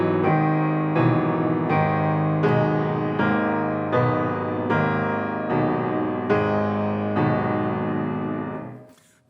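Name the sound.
piano depicting an ox pulling a cart full of rocks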